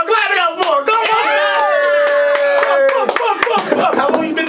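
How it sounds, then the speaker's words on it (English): Hand claps in a radio studio during an on-air interview at a Chicago station, loud and close, running under a strong voice with musical, tonal sound throughout. "Y'all clap it up for her."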